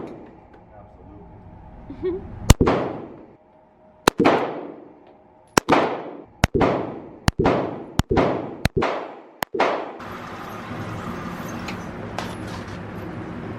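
A SIG 9mm handgun fires eight sharp shots at a test range, loud and close with ringing decay, spaced unevenly and speeding up toward the end, followed by a noisy rumble of movement.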